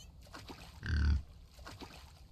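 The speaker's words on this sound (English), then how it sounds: "I hear a pig." A pig gives a single short, low grunt in The Infected video game, brief and fairly close, set against quiet ambient game sound.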